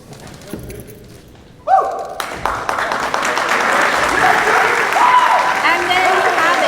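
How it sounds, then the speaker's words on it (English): A round of applause breaks out at a high school letter-of-intent signing, starting after a few thuds and quiet room noise, then swelling into steady clapping from a modest crowd while a voice speaks over it. "Let's give a big round of applause for your newest Ottawa University Brave, Mr. Jake Zapata."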